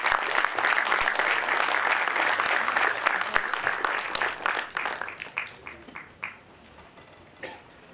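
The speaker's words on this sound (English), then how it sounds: "clap your hands and welcome him on stage" A film festival audience claps to welcome director Rajko Grlić on stage at a master class, a loud dense round of applause that thins into scattered claps and fades out.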